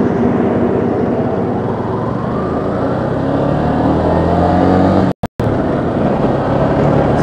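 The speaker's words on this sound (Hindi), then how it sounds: "अभी मैंने पहला गियर डाला है, तो चलिए पहले गियर में कितना तेज जाता है देखते हैं।" A Yamaha FZ-S V2.0 motorcycle accelerates hard in first gear, its engine a loud, continuous droning roar rising in pitch, close to the rider, with a brief dropout near the end.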